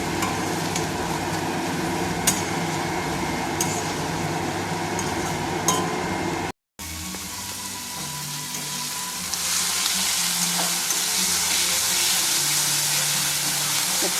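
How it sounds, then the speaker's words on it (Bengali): Onion and ginger paste frying and being stirred in a pan, a loud continuous close sizzle with a few scraping clinks of the spoon, briefly cut off and then resuming even more intense, no voices. "দিয়ে আর একটু নাড়িয়ে নিতে হবে।"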